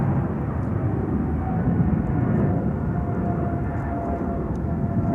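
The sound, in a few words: Delta Airbus A350 airliner taking off at Schiphol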